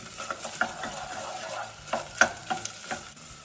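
A tofu meatball mixture with part of a can of sauce is stirred in a pan. The spoon scrapes and clinks in an irregular rhythm over a low, steady sizzle, close and moderately quiet, with no talking.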